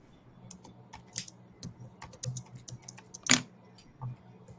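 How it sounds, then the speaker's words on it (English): Someone types on a computer keyboard nearby, bursts of light irregular key clicks with a couple of louder strikes, over a quiet room hum. "Look, he's typing."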